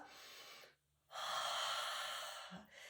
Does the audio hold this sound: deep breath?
yes